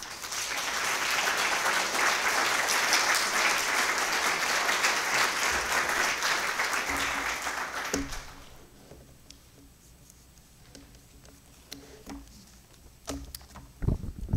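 An audience welcomes a lecturer for a talk on prayer in Mark's Gospel with sustained, dense clapping for about eight seconds, then fading out to a quiet room with scattered small sounds.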